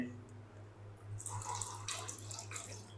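Water splashes and trickles into a kadhai holding washed chickpeas, a steady close pour lasting a couple of seconds over a low background hum.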